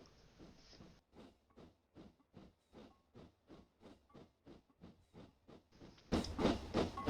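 A steam train being shunted, giving a rhythmic run of a dozen or so chuffs at an even pace that ends in a loud burst of steam hiss, moderately close, no voices.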